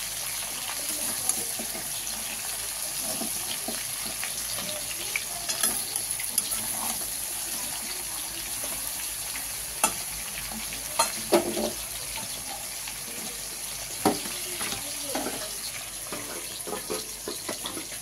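Low, steady sizzle of vegetables frying gently in a pan, with occasional soft clicks and stirring scrapes, no voices.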